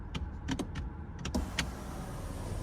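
Sunroof of a 2023 BMW X6 xDrive40i M Sport closing with one-touch button, a few soft clicks followed by a faint, steady electric motor hum inside the cabin.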